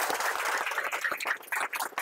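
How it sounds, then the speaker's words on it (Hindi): An academy audience gives Krishna sir a burst of enthusiastic applause, dense clapping from many hands, close and loud, thinning slightly toward the end. "एक बार কৃষ্ণা স্যার के लिए जोरदार ताली"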